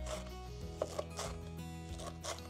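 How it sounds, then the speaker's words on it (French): A knife chops fresh ground elder coarsely on a cutting board for wild crêpes, a few quiet, irregular chopping strikes over soft background music. "Je vais hacher mon égopode assez grossièrement."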